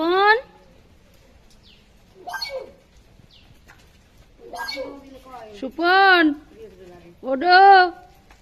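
A pet myna bird mimics human speech in a Barishal dialect, producing several loud, close, voice-like tonal calls separated by pauses, with some softer vocal sounds between them.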